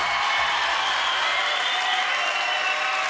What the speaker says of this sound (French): Irène Jacob, un applaudissement à tout rang, très chaleureux.